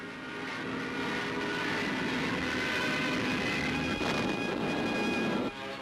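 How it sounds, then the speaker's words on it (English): A loud, continuous droning of Junkers Ju-88 bomber engines, heavy and steady throughout, with a slight shift in tone near the end. "Rommel sends his Ju-88s in a belated attempt to stave off danger from behind the Māreth line."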